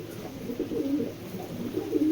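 A red checker pair of pigeons coos softly, the male calling the female in low, rolling murmurs that repeat through the moment over a faint hum.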